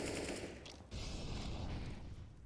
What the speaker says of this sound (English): Juan Flatro able to hit another headshot, this time by top of CT spawn stairs.